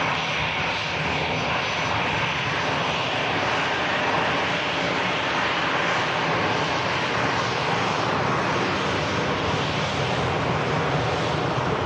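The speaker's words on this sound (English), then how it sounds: "the Cathay Pacific 350 beginning its taxi now as well" A Cathay Pacific Airbus A350 airliner taxiing at an airport gives a steady, loud roar of jet engines that holds unbroken throughout, with a faint wind-like rush and no voices.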